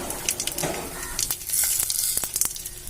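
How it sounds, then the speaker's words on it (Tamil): Mustard seeds and urad dal sizzle and crackle in hot oil in a pan for idli upma. The frying hiss is constant and moderately loud, with sharp pops and spatters scattered throughout and no voices. "எண்ணெய் ஹீட் ஆயிடுச்சு. கடுகு உளுத்தம்பருப்பு சேர்த்துக்கிறோம்."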